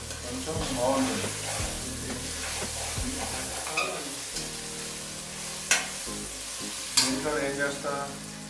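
Potatoes and tomatoes fry for a curry, a moderate sizzle with clinks and scrapes of a spoon stirring the pan, a few sharp taps standing out.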